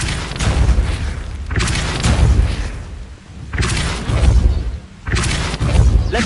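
Depulso force-push spell from the video game Hogwarts Legacy, heard as several loud, heavy booming blasts in a row, each a deep thump with a rushing burst that fades before the next.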